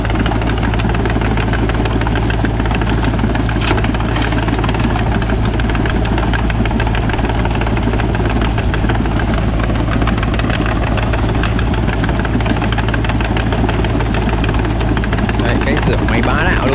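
An excavator's diesel engine idles loudly and continuously nearby as the mud-caked machine is washed down with water, a steady droning rumble with a voice talking over it.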